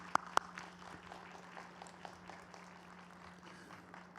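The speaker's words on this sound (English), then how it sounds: "Let's have a warm round of applause for all of our outstanding students" Applause for graduating School of Business students at a spring university commencement, a soft, steady patter of clapping throughout, with a steady hum beneath and two sharp clicks near the start.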